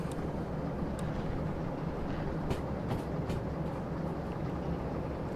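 A train running in the video game Derail Valley: a steady, loud rolling rumble with sharp clicks and clunks from the track scattered throughout.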